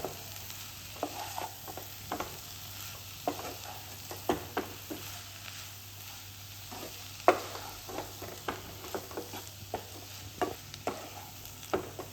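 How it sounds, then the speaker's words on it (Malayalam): Spiced chicken samosa filling being stirred and fried in a pan, with a steady soft sizzle under repeated scraping strokes of a spoon scattered across the whole stretch, no talking. "ഇതെല്ലാം കൂടി ഒന്ന് നല്ലോണം മിക്സ് ചെയ്യും."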